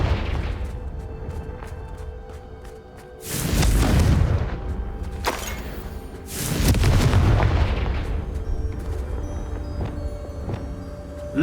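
Confringo explosive spell cast in the Hogwarts Legacy video game on Switch, heard as two loud booming blasts a few seconds apart, each with a rumbling tail, over a steady game background.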